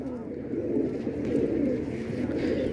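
A colourful fancy pigeon gives low, soft, rolling coos close by in a steady stream, with faint background noise around it.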